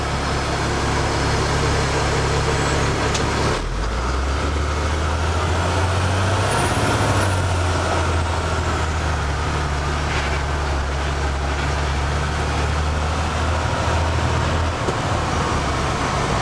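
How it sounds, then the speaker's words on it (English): A Freightliner truck with hydraulic brakes idles nearby, a steady low diesel rumble throughout, with a shift in the engine note partway through and some wind or background noise over it. "Truck is idling."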